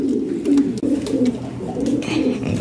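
Lahori Sherazi pigeons cooing at a pigeon market, repeated low throaty coos in a loose rhythm, close and fairly loud, with faint background rustle.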